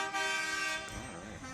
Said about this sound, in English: You can hear the honking behind us.